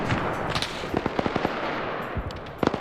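Machine gun fire in a WW2 multiplayer shooter game, rapid rattling bursts of repeated shots at mid distance, a dense volley in the middle and a short burst near the end, with no talk.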